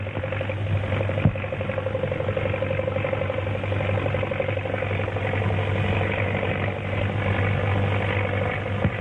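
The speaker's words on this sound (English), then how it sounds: "the plane's in trouble. He's going to make a forced landing." A steady propeller-plane engine drone during a forced landing, holding at an even level throughout, with a low hum and no voices.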